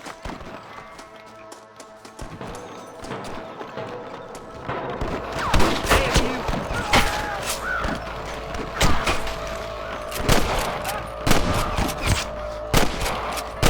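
Gunfire in the Red Dead Redemption video game, starting as sparse shots and building into a dense exchange of sharp cracks and rapid volleys alongside ambient music.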